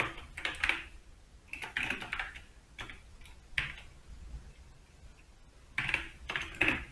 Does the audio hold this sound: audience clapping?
no